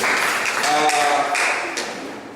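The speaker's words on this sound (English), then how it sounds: "Please, men, clap yourself again." Men in an audience at a Labour Party (LP) gathering in Ondo West LGA, Ondo State clap together in a dense, steady burst that tails off slightly, with voices mixed in.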